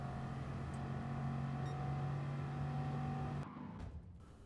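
Gr.4 race car engine at Monza in Gran Turismo Sport, droning at a steady high pitch under load, then the tone abruptly cuts off near the end as the car lifts or passes, moderately faint.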